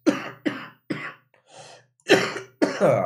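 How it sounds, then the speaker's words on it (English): A series of about six hoarse coughs in quick succession, close and fairly loud, with brief pauses between bursts. "the cough is still somewhat with me"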